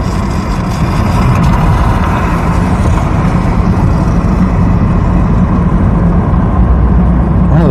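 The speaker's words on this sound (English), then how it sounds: "One of those cars is making a really weird noise." A car in Brazoria County, Texas making a weird noise, heard as a loud, steady low engine drone and rumble throughout, close and continuous with no talking.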